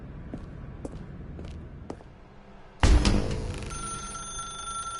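Telephone in The Stanley Parable video game: a few soft footstep-like taps give way to a sudden, loud bell ring that keeps sounding with a sustained metallic tone.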